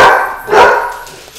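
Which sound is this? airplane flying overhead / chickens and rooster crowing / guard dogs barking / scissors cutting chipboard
guard dogs barking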